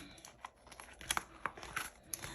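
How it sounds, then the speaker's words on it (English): A paper envelope torn open by hand, heard up close as a series of crisp tearing and crinkling bursts with no talking. "let's open up this envelope here"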